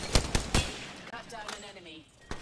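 Three sharp gunshots from a PC shooter game crack close together at the start, one more near the end, with a busy game soundtrack and voice lines in between.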